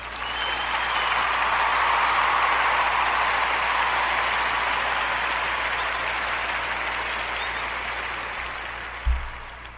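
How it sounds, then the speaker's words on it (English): An audience at a community summit applauds steadily for nearly ten seconds, a dense wash of clapping that swells early and slowly tapers, with a brief thump near the end. "I'll give you all a round of applause for that"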